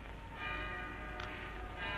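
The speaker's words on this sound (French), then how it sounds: "je ne comprends pas que les habitants de Valheim aient choisi une mélodie étrangère pour leur carillon" A town carillon plays a melody in a 1938 film scene, its bells ringing faintly and steadily under a muffled, hissy old soundtrack, with no speech.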